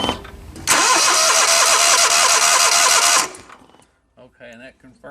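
A Briggs & Stratton Vanguard 37hp EFI engine cranks over and catches, running loud and steady at close range for a few seconds before shutting down, with someone speaking briefly afterward.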